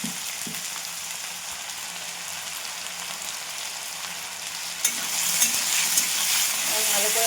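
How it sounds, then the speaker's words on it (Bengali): Cut potatoes frying in a pan with salt, giving a continuous close sizzle that swells louder partway through, with light stirring clinks near the end. "এবার কেটে রাখা আলুগুলো ভেজে নেবো ভালো করে।"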